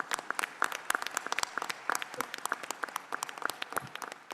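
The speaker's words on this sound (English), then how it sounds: "a big round of applause to all the teachers of Beacon House" Audience applause for the teachers at a Beaconhouse school 50th anniversary event, a steady patter of many separate hand claps sounding close and fairly sparse, without talk.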